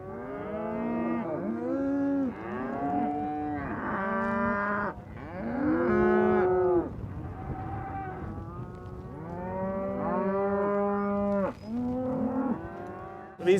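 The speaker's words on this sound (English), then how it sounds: "These cows are looking for their babies, and the babies are looking for their mamas" A herd of cows and calves moos over and over, many long overlapping calls of differing pitch, loud and close with barely any pauses between them.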